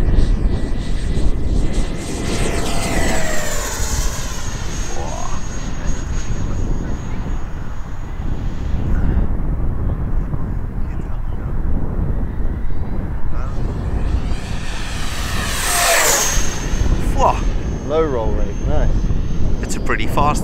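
A small FMS Avanti V3 70mm electric ducted fan model jet flies over a grass field, its steady high whine rising and falling with two clear passes as it swoops near and away, loud and continuous outdoors.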